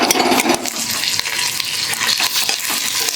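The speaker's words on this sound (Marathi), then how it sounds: "आता 1 मिनिटभर आपण हे तांदूळ चांगले परतून घेऊ।" Uncooked rice grains are sautéed and stirred in a hot pan for a mixed vegetable pulao, giving a steady close sizzle with scraping, shuffling stirs running throughout and no voices.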